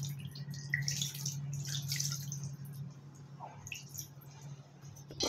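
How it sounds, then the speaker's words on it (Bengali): Water is poured into a pot of marinated beef, making soft drips and wet splashes near the mic over a low steady hum from the stove. "একটু পানি ব্যবহার করবো এখানে।"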